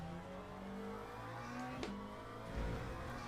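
A McLaren race car engine from the Le Mans Ultimate sim racing game, lapping Bahrain, drones steadily under traction-limited acceleration, with a brief sharp transient midway and a low thump near the end, no talk.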